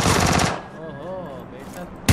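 Automatic gunfire from the battle royale game PUBG Lite, a dense loud burst of rapid shots over about half a second, then quieter game ambience with a faint tonal sweep and a sharp hit at the end.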